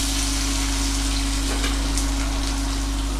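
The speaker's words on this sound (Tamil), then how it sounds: "வெங்காயம் வந்து நல்லா வதங்கட்டும்." Onions frying in a pan with peppercorns, cloves and spices for a chicken curry, a loud, steady hissing sizzle like rain on a surface, close up, over a constant low hum.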